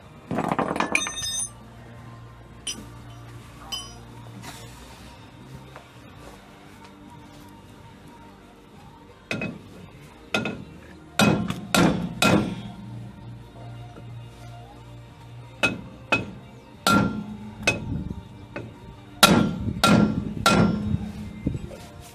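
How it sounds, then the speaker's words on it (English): Loud, close metallic blows from a hammer and chisel struck underneath a car on a Rapier Sankey trailer brake, coming in irregular bursts and quick clusters, with quieter stretches of low rumble between them. "I'm going to get underneath the car and start hitting it with hammer and chisel"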